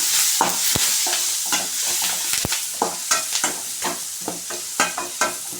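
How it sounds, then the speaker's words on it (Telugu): Cabbage fries in a pan with turmeric while a spoon stirs it, giving a steady sizzle broken by repeated sharp scrapes and clacks against the pan. Close and fairly loud, with no talking. "ఇప్పుడు పసుపు వేసుకోవాలి కొంచెం దీన్ని కలుపుకోవాలి"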